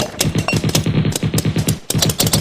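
Rapid bursts of sharp popping shots fired in quick succession, loud and close, with a short pause before another volley.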